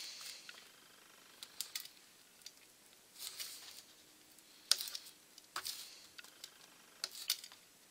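Scissors make a series of faint, crisp snips at the corners of covering film on model aircraft tail surfaces, with irregular cuts spaced across a quiet room.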